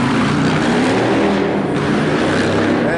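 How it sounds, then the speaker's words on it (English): A motorcycle rides by on Fremont Street in downtown Las Vegas, its steady engine drone sitting loud and close over a constant street crowd wash for the whole stretch. "on a motorcycle. Look at that."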